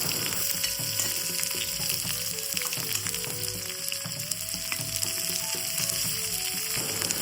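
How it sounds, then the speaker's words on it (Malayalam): Shallots and mustard seeds sizzle in hot oil for a Kerala sambar tempering, a steady close crackle throughout with a faint sustained tone underneath and no voices. "എണ്ണ ഒഴിച്ച് ഒരു ടീസ്പൂൺ കടുക് ഇട്ടതിന് ശേഷം കരിയപ്പില്ല നാല് ചെറിയ ഉള്ളി ചെറുതായിട്ട് അരിഞ്ഞ് ഇടേണ്ടതാണ്"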